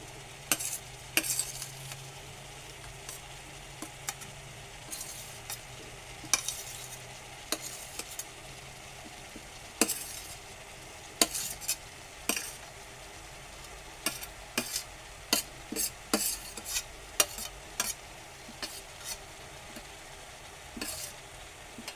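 Chopped, salted bitter gourd is stirred in a hot pan, a soft background sizzle broken by frequent sharp scrapes and clacks of the spoon against the pan, coming in irregular bursts.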